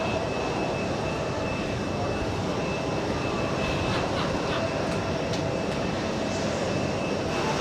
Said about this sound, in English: We got a CRJ right now, taxiing, about to park at, let's see what, gate Alpha 10.